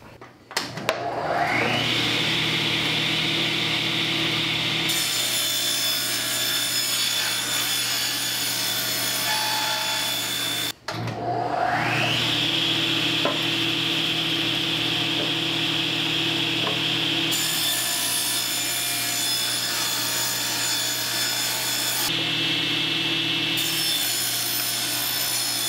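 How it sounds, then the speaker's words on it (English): A saw cuts wood pieces for a table saw jig in two long passes, each rising to a loud steady whine and rasp, with a brief pause between them and no talk. "So we'll cut three pieces"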